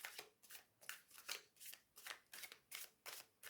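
A tarot card deck is shuffled overhand, close and quiet, as a rhythmic run of about ten crisp riffling flicks spaced roughly a third of a second apart.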